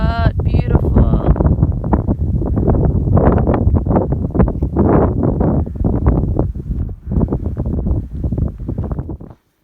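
Steady wind buffets the microphone outdoors on a breezy day, a loud, continuous low rumble with gusty surges throughout, over which people talk.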